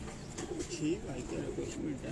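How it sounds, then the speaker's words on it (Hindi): A racing pigeon coos on a rooftop in Kasur, soft repeated throaty coos heard up close over a faint background murmur. "ये जी F16 कबूतर है जनाब उस्ताद ताहिर भट्टी साहब का"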